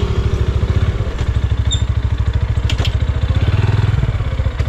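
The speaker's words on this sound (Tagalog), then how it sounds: "Nandyan yung motor na si Anghel." Motorcycle engine idling nearby, a loud, steady, rapid low chugging pulse with mechanical clatter throughout, briefly swelling as if lightly revved near the end.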